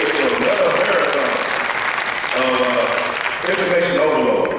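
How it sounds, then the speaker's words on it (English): Audience clapping loudly and steadily throughout, with a speaker's voice cutting in over the applause at moments. "Give yourselves a round of applause for making another marathon"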